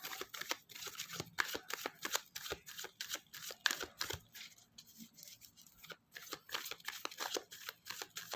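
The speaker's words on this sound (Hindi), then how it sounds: "कार्ड्स को अच्छे तरीके से हम शफल कर लेंगे" Tarot cards shuffled by hand close up, a quick run of crisp riffling flutters and soft slaps repeating in bursts, fairly quiet, with no talking.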